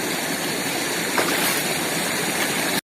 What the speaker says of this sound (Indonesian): Wah, ini sungai